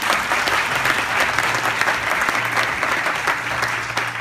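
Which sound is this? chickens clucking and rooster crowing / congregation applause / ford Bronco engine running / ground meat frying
congregation applause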